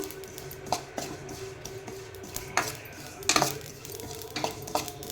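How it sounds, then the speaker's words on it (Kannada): Poppy seeds dry-fried in a pan with no ghee, stirred with a utensil that scrapes and clinks against the metal at irregular intervals, over a soft steady sizzle, close and alone with no talking. "ಈಗ ಇದರ ಜೋಡಿನ ಗಸಗಸೆ ಹಾಕ್ತೀನಿ ಸ್ವಲ್ಪ ಬಿಸಿ ಆದರೆ ಸಾಕು ಗಸಗಸೆ ಬೇಗ ಫ್ರೈ ಆಗ್ತವು"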